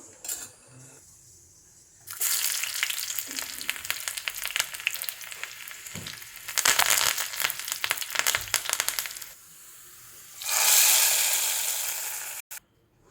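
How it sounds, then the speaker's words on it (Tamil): Spices crackle and sizzle loudly in hot oil in bursts, tempering for a Nagercoil-style dal curry, with a brief metallic clink near the end and a final hiss. "நமக்கு இப்போ இதுக்கு ஒரு தாளிப்பு கொடுக்கலாம்"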